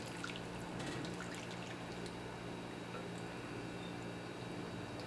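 Marinara liquid for homemade hot giardiniera relish trickles and drips into a jar, a faint, continuous pour with small splashes, heard alone without voices.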